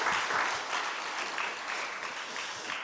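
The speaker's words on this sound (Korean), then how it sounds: "박수 한번 할까요?" A church congregation applauds a newly married couple during a Sunday service, with steady, dense clapping from many hands filling the room throughout.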